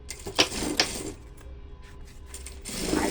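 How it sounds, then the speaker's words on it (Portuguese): A sewing machine runs a safety seam along a handmade tote bag. A couple of sharp mechanical clacks come first, then a steady, fairly loud whirring run of stitching nearby, with no voices. "E vou fazer uma costura de segurança."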